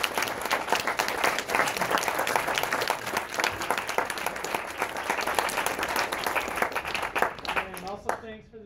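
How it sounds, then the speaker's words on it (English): Steady audience applause fills a room after an industrial process control presentation, dense clapping sustained for about eight seconds before a voice starts speaking at the very end. "Okay, let's give them a round of applause."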